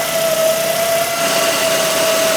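A petrol 1.8 Ford Focus engine idling with a worn alternator giving off a constant thin, high squeal that holds at one pitch over the loud, steady engine hum.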